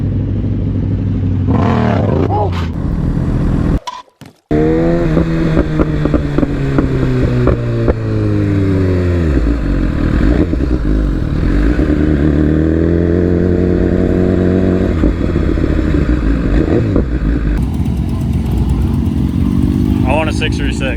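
A motorcycle fitted with a quick shifter revs hard and accelerates, its loud engine note climbing and dropping through repeated rising sweeps, with a brief sharp break early on and people talking over it.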